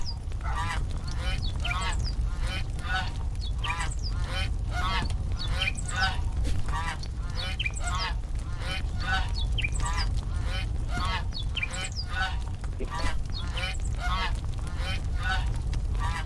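Geese honk loudly and repeatedly in a dense, continuous chorus, with duck-like quacks mixed in among the close, overlapping calls.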